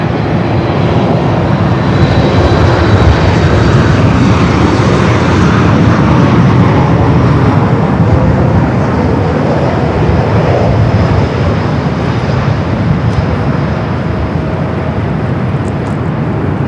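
A Delta Airbus A321 arriving from Atlanta at Los Angeles airport gives a steady, loud broadband jet roar that holds evenly throughout, close and continuous with no voices.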